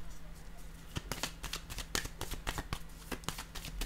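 A tarot card being handled and laid down makes quiet papery shuffles and soft slaps in a brief flurry, faint and close, against a low hum and light background noise.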